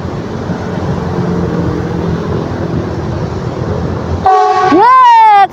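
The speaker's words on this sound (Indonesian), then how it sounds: "Kereta apinya akan tepat berada di depan saya" A KRL electric commuter train passes a railway crossing near Purwosari station beneath a flyover, with a steady loud rumble for about four seconds, then a sharp near horn blast and a voice over the din.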